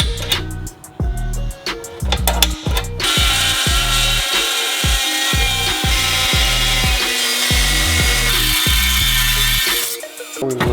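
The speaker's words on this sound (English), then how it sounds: "we're gonna have to cut out like a clamshell type deal here for the pipe to pass through" A power tool cuts a clamshell-shaped opening in the airbox of a Subaru WRX STI, a loud close whine with stuttering bursts as the blade bites, then steady sustained cutting noise.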